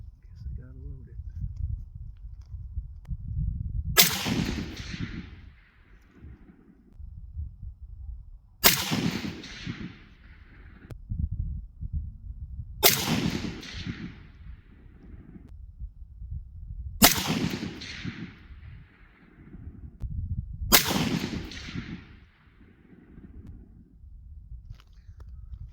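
Five sharp rifle shots fired from an Armalite AR-10 loaded with 168-grain Sierra AAC rounds crack out at even intervals of about four seconds, each a loud close blast with a quick ringing decay over low background rumble.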